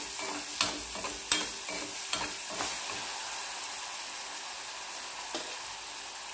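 Green chilies and onions with salt are stirred in a hot pan over a low, even sizzle, with a few sharp spoon knocks against the metal early on and one more near the end.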